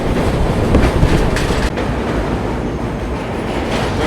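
A train rolls past near the Penna River barrage, a loud, close, continuous rumble with rattling wheel clatter and a brief sharper crack partway through, no voices.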